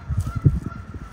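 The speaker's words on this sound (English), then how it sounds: "There's a lot of geese out here." Several geese honk in quick, overlapping bursts at close range outdoors in Winfield, Kansas, a busy flock calling loudly with no talking over them.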